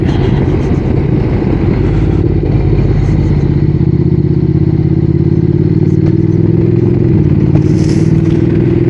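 A motorcycle engine drones steadily while riding, a loud, constant hum mixed with wind rush, with no talking.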